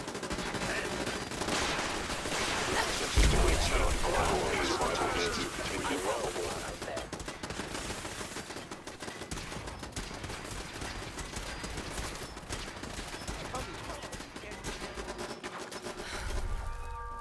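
Sustained gunfire in a Fallout 4 battle against the Brotherhood, dense and continuous with rattling automatic bursts blending into a busy, loud background for the whole stretch.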